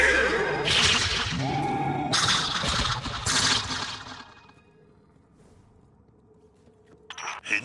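A horse whinnies loudly in a video game with a rising, shaky call over a busy background, then the sound drops to a quiet hum before a short sharp noise at the end.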